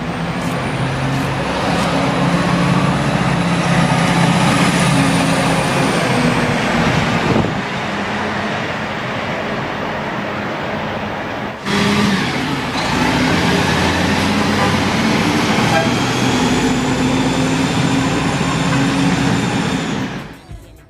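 Riding aboard a 1997-98 Novabus RTS city bus in New York, the engine roars loud and continuous with a thin rear axle whine rising over it, broken by a brief lull midway before pulling hard again.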